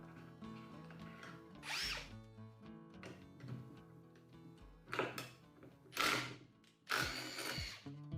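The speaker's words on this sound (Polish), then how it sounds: "W przypadku zastosowania wkrętarki udarowej można było przewiercić materiał na wylot" An impact driver boring a 32 mm hole straight through material, with a whining motor, a sustained run and several louder, rougher bursts as the bit bites, close to the microphone.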